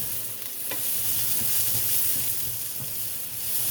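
Onion and spinach sauté in a pan for an omelet, giving a steady, close sizzle with a few soft stirring scrapes and taps and no voices.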